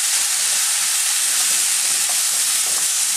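Butternut squash curry sizzles in a pan with a bright, steady hiss as it is stirred, close and loud without pause.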